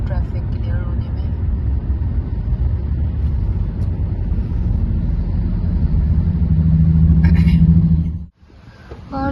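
A car drives through heavy road traffic on a road trip to Philadelphia in the USA, giving a steady low engine and road rumble for about eight seconds before a sudden drop, with people talking over it.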